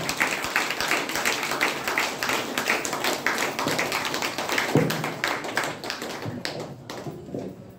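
An audience at a DXN gathering breaks into strong applause, a dense, steady patter of many hands clapping at close range that thins out toward the end.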